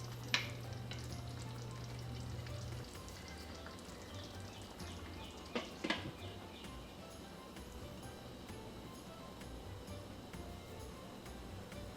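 Shrimp curry cooking in a covered pot on medium heat gives a soft, steady simmering sizzle, with a low hum early on and a couple of brief clinks near the middle.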